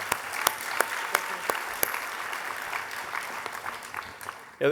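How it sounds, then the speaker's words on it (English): Audience applause at an award ceremony for a PwC honoree: steady crowd clapping with several sharp, evenly spaced claps standing out near the start, continuing at an even level to the end. "let's give a round of applause to Jonathan and Mike."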